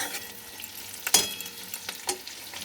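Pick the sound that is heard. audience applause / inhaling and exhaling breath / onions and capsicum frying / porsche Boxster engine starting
onions and capsicum frying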